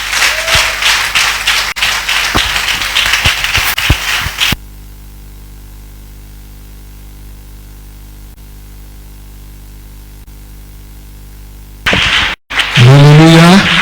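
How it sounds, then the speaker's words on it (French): A church congregation breaks into loud, dense applause and cheering for about four seconds. It cuts abruptly to a low steady hum, and a short burst of voice or music follows at the end. "je voudrais qu'on acclame très fort le Seigneur"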